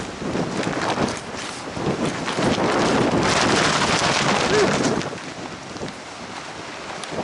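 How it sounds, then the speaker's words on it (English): Strong wind at Cape Lookout during Ophelia buffets the microphone with a continuous rough roar that swells and eases, heard outdoors with no one speaking. "It is windy out here."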